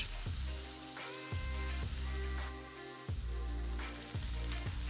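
Loud, constant sizzling from chicken frying in a very hot pan for mi goreng, with occasional stirring clatter breaking the steady crackle.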